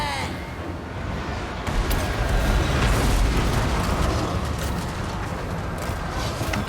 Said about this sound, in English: they're actually shelling them with the organ guns